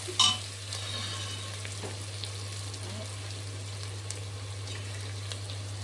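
Stuffing mixture seasoned with cinnamon, cardamom and mastic is stirred in a pan, giving a soft continuous sizzle with light scraping, a sharper clatter at the start and a steady low hum underneath.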